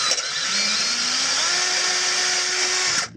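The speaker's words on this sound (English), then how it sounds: "I'm gonna go use the 1164 to make that hole bigger, because that was clearly the wrong size." A power drill, an 1164 model, enlarges a too-small fastener hole while fitting a front catalytic converter security shield on a third-generation Toyota Prius; a steady high whine holds for about three seconds, rising slightly in pitch midway, then cuts off.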